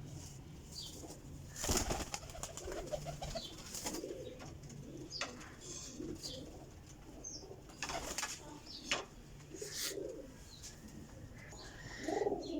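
Sialkoti pearl-marked pigeons coo softly and flap their wings in a loft, with low throaty coos running through a steady background, a few louder wing flutters, and no talking.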